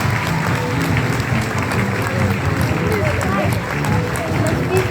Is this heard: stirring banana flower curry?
no